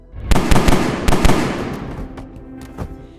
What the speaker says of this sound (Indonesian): Ternyata itu adalah tembakan dari David yang berhasil melepaskan diri.